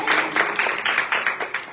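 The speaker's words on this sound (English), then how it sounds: "A round of applause for Nikita." A live audience applauds a poet at a slam poetry event, with short bursts of clapping swelling and fading in quick succession, fairly close and moderately loud.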